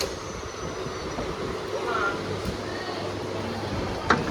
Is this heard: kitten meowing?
no